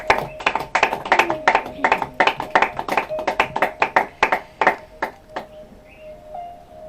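A small audience claps together right after a spoken prayer in a French-language Christian youth gathering, the sharp rapid claps loud and dense at first, then thinning into scattered final claps that fade out near the end.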